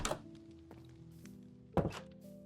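Minecraft skeleton mob noise: two bony clattering bursts, one at the very start and a louder one near the end, over a steady tonal game backdrop.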